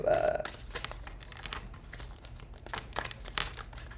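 Tarot cards shuffled during a reading, a continuous papery riffling and crinkling that stays close and fairly quiet, with a faint tone in the opening moment.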